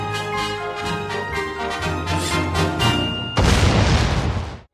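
A cartoonish blast booms out suddenly after a stretch of tonal music, a loud rumbling explosion that quickly fades, as a bridge is blown up with a train approaching in a Batman: The Animated Series scene.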